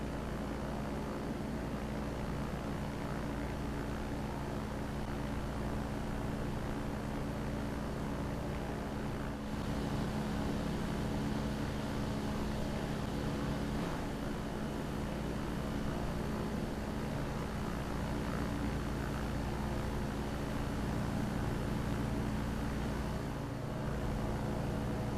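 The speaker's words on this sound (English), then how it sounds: "Let's go ahead actually and head to the outside and listen to the engine and such out there." A steady, droning Rotax propeller aircraft engine hum from a flight simulator game runs continuously at an even level, with no voices.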